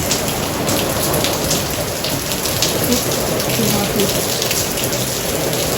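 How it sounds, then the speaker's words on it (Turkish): Heavy rain pours steadily during a sudden storm that is bending trees, a dense, loud hiss of drops on surfaces with no pauses. Faint thunder rumbles low beneath the downpour. "bir yağmur yağıyor şu anda. Fırtına ile beraber ağaçlar yatıyor"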